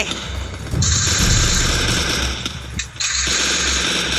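Gunfire in the mobile battle game Free Fire comes as a loud, sustained rattle of shots, a brief dip near the end, then the barrage picks up again.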